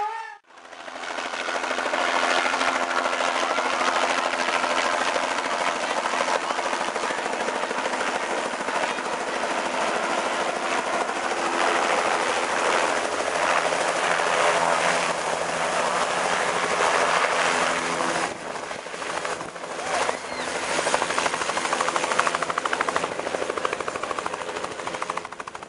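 Survival Flight medical helicopter arriving at a night homecoming football game, a loud continuous rotor and engine roar lasting throughout, steady and close with slight swells and no talk.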